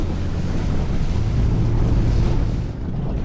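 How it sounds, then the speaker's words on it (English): Strong wind buffets an offshore fishing boat drifting off Newcastle, New South Wales, a loud, steady roar of gusting air and wave wash close to the microphone throughout. "that wind has actually picked up"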